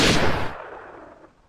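Sniper rifle headshot in The Last of Us Part 2: one loud, close gunshot crack that decays into a fading echo tail.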